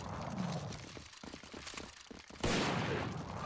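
Gunfire in the video game Earth Defense Force 3 Portable during an urban battle on Normal difficulty, a dense continuous fusillade of rapid shots with a louder burst near the end.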